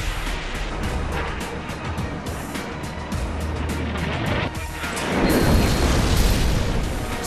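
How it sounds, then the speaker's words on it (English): Explosions from guided missiles striking targets, a dense, continuous rumble of booms with heavy low-end roar building louder over the final seconds, no voices. "Neutralizing the enemy's communications networks using guided missiles."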